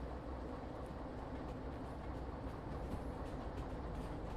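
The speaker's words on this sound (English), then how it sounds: "So we need to wait for our train to pass by this switch right here." A train in a railway simulation game rolls past a track switch in a steady, close rumble with faint clicking and rattling on top, holding even loudness throughout.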